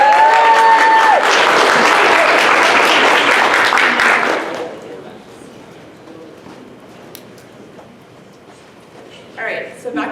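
Audience clapping at a talk on American eel diet in Lake Champlain, a dense burst of applause for about four seconds that fades out, followed by quiet room tone and a voice resuming speaking.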